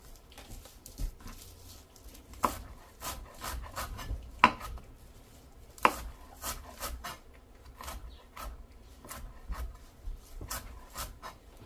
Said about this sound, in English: And I chop kale up pretty small.